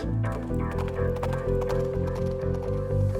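Animated horse galloping with rhythmic hoofbeats under a steady musical backing, a repeating clip-clop pattern running throughout at a constant pace.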